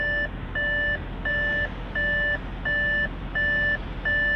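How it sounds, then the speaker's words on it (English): Audi RS7 warning chime beeping in a steady repeating pattern, seven evenly spaced tones about half a second each, clear and close inside the car with no talk. "You should also know that it beeps"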